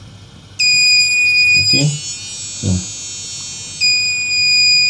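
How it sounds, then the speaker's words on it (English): A buzzer wired to an Arduino Uno sounds a loud, steady high-pitched electronic tone that runs almost throughout, briefly changing pitch midway, while someone talks over it. "I just want you to use the buzzer so that I can be able to clarify myself"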